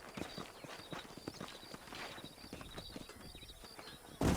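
Steady clip-clop of horse hooves walking in Red Dead Redemption, with a busy ambient backdrop and a brief louder burst at the very end.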